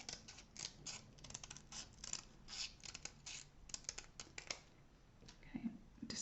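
Scissors cut a paper poinsettia petal on the diagonal in quick, quiet, closely spaced snips and crisp paper rustles, close by and faint, with no talking.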